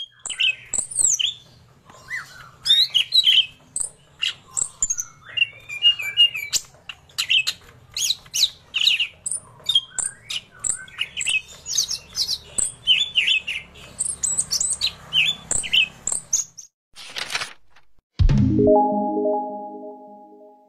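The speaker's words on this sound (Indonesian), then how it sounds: "Cucak ijo rantai memiliki suara yang tidak terlalu lantang dan keras." A cucak ijo rantai leafbird sings a long series of varied chirps, trills and whistled phrases, clear and close, with short pauses between bursts; a ringing electronic tone follows at the end.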